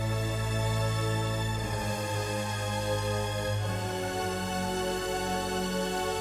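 Violins, violas and double basses play together in an epic trailer-style orchestral cue, a dense, loud sustained string chord texture with shifting harmony and no voices.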